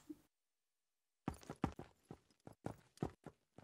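Quick, uneven footfalls of a player character running in the multiplayer game Shattered Skies, a close series of sharp steps after a short silence at the start.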